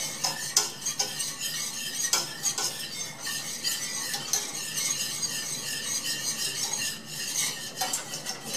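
A whisk beats flour into a beef stroganoff sauce in a pan, quick rhythmic metallic scraping and clinking strokes running steadily throughout, close and fairly loud with no voices.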